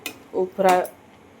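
A spoon stirs a boiling mixture of water and tea leaves in a pot, giving two short scraping clinks against the metal in quick succession, with quiet gaps before and after.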